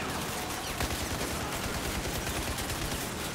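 Dense, continuous gunfire from the video game Battlefield 4, rapid overlapping shots and bursts filling the whole stretch at steady loudness, with no talk.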